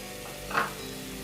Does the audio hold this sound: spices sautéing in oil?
yes